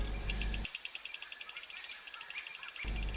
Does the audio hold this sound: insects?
yes